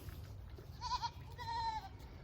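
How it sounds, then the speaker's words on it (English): Two little goats bleat twice in a winter snowstorm on a farm, fairly near and clear over a low background rumble. "those two little goats still over blating"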